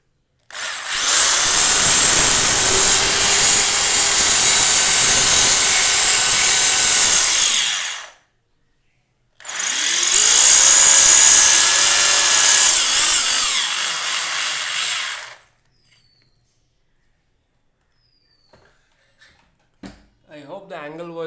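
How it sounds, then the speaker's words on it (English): A power drill bores into a wall in two long steady whines, each lasting several seconds, loud and close, with a short pause between them; a few faint knocks and handling sounds follow once the drilling stops. "And I have to drill with one hand, so something might terribly go wrong"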